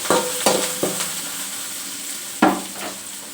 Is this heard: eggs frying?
yes